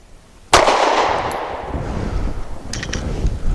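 A single sharp gunshot from a compact Sig P365 SAS pistol fired at 7 yards, a loud close crack followed by a long echoing decay with faint metallic clinks afterward.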